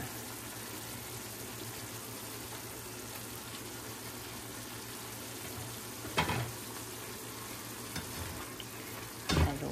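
Onions stir-frying in a pan for beefsteak give a steady soft sizzle, with a few louder scrapes of stirring near the end.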